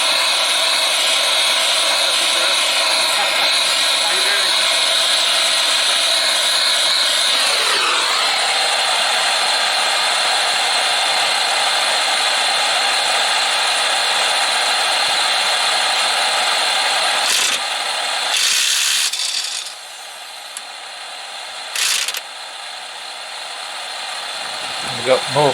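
A heat gun roars steadily and loudly up close while heating the rear wheel bearing area of a diesel Jaguar X-Type, then its pitch shifts and it cuts out near the end.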